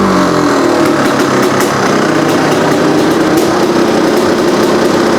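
A Honda CR500 two-stroke motorcycle engine fitted with a new eBay carburetor idles loud and close, a continuous steady buzzing drone with a slightly uneven throb.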